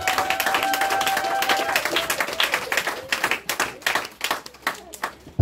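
A church congregation claps rhythmically while acclaiming the Lord during a worship service, with sharp hand claps growing more distinct and spaced toward the end and voices singing or calling out under the clapping.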